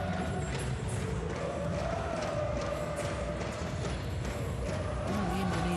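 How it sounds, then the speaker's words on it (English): Indonesian fans at a badminton match singing and cheering in a large arena, a steady crowd roar with rhythmic clapping throughout. "the Indonesian fans will sing and cheer, whatever, won't they?"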